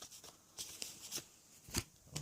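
A deck of tarot cards being shuffled at close range, a run of soft riffling bursts and sharper slaps that come and go in an uneven rhythm, with no voices over it.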